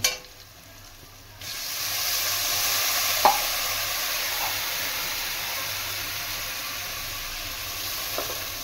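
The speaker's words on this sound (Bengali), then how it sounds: "এবারে আমি এর মধ্যে দিয়ে দেব জল ঝোলের জন্য" Water is poured into ginger paste frying for a curry, setting off a sudden loud hiss and sizzle that holds steady, with a few small clinks of stirring.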